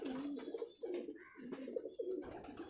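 Pigeons cooing close by in a loft, several soft, throaty rolling coos repeating in a steady rhythm with no voices over them.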